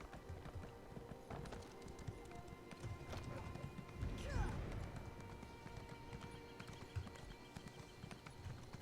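Mounted horse hooves clip-clop steadily in the online fantasy game Elder Scrolls Online, a continuous rhythmic gait through a large tree city, with game ambience and music under someone talking.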